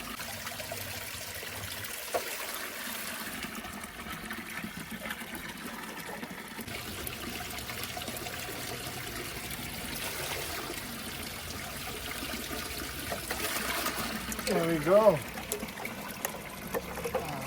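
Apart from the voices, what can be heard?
water filling up from a spring fountain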